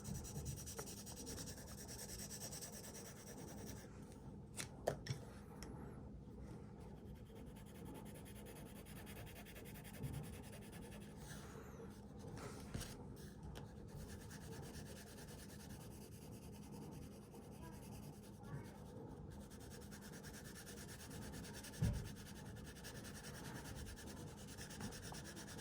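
A B pencil shades across paper in steady, quiet, scratchy rubbing strokes that continue for a long stretch with only slight pauses.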